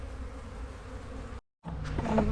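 A dense, steady buzzing of many agitated honeybees around a hive fills the air, briefly cutting out before returning louder, with no voices.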